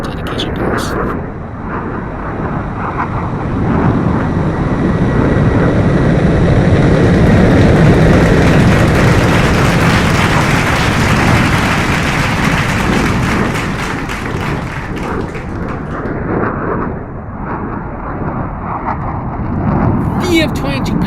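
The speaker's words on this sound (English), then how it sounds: "Now, from behind and to the right, the F-22 Raptor proudly presents" An F-22 Raptor jet fighter flies a dedication pass at an air show. Its loud roar builds, holds for several seconds and then fades, while a public-address voice talks over it.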